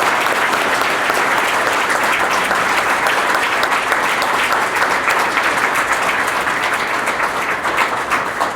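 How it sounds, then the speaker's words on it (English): An audience at a police chief's awards ceremony for citizens applauds loudly and steadily, a dense, even wash of clapping that holds for several seconds without anyone speaking. "Let's give them a loud round of applause."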